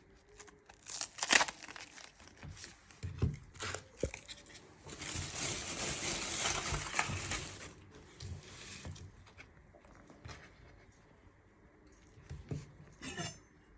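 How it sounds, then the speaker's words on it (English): Dry papery onion skin being peeled off by hand, with close crinkling and tearing rustles and a few light knocks, in a burst of denser crackling partway through. "Once you have peeled your onion"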